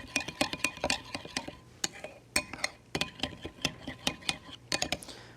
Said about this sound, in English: Just a bit more stirring.